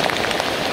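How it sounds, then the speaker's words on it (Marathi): Heavy daytime rain pours steadily onto surfaces outdoors, a dense close hiss of drops in a very short burst. "भरपूर पाऊस आहे आज."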